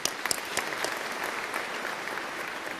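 An audience at a matric class of 2022 results ceremony applauds teachers and principals, a steady wash of many hands clapping with a few sharper claps standing out near the start, no speech.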